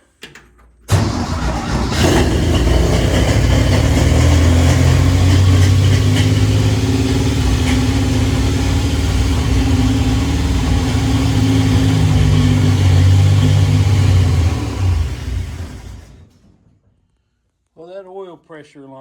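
A Willys CJ2A fitted with a V6 engine cranks and catches on its first start-up, then runs with a loud, steady, rough rumble close by for about fifteen seconds before cutting off, followed by a brief voice.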